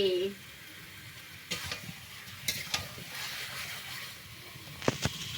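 Chicken being stir-fried and browned in a pan, a soft steady sizzle with a few sharp scraping clanks of the spatula, a short voice at the start.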